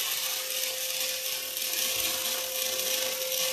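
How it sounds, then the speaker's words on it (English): A welding robot runs beside a rolling positioner that turns the workpiece, giving a steady, loud industrial hiss and mechanical grind with a constant tonal hum, continuous and unbroken, with no talk. "When the robot began running and the positioner is also worse."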